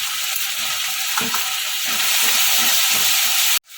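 Tomato red sauce for pasta sizzles and bubbles in a hot pan while being stirred, a steady loud frying hiss with soft scraping stirs underneath, ending abruptly.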